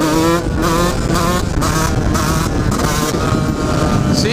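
A Husqvarna 125 CR motard motorcycle in third gear revs up hard, its two-stroke engine climbing loud and close with rising harmonics and repeated throttle surges across the whole stretch.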